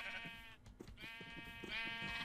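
Sheep bleating in the farming survival video game Project Survival 2.0: two drawn-out, wavering bleats close by, with a short gap between them and no talking.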